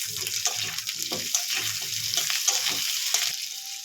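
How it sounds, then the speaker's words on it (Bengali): Potato pieces and onion frying in oil in a pan crackle and sputter in uneven bursts, close and moderately quiet, with soft stirring scrapes; no one talks. "আলুটাও একটু ভাজা হয়ে যাবে"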